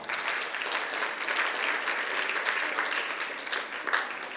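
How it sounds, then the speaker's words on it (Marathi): An audience at a Gadgaonkar Maharaj birth-anniversary gathering claps together, dense continuous applause holding steady for several seconds with no talk over it. "त्यांच्यासाठी देखील टाळ्या वाजवा"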